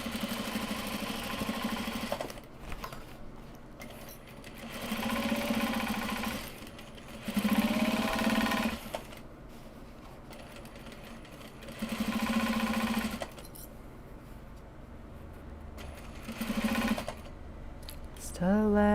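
A sewing machine stitches bags from Japanese fabric in several short runs separated by pauses, close and fairly quiet, with faint room noise between runs.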